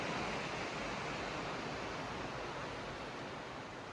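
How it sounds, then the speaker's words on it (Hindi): The Ganga river flowing through forest at Rishikesh in the morning, a steady broadband rush of water that stays even and unbroken throughout, fairly quiet, with no voices. "गंगा नदी बह रही है और बहुत अच्छी सी आवाज आ रही है सुबह सुबह मॉर्निंग में।"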